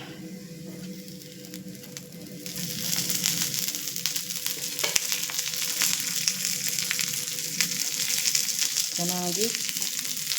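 Raw banana and potato pieces fry in oil in a pan, a steady, even sizzle that grows louder after a couple of seconds and keeps hissing, with a brief spoken word near the end.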